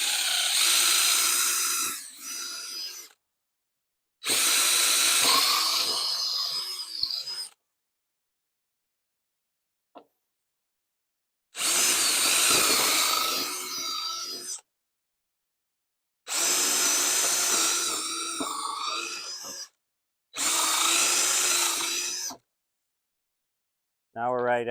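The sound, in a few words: power drill drilling holes in wood for chicken roost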